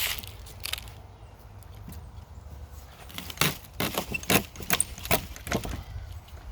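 Sugarcane stalks are chopped into planting cuttings with a series of sharp, close cracking cuts, irregular at first, then several quick snaps in a row over a quiet outdoor background.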